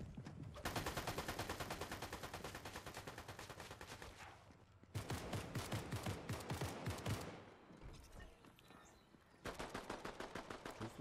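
Long sustained bursts of rapid automatic gunfire in Fortnite, steady and distinct, broken by brief gaps, with no talking over them.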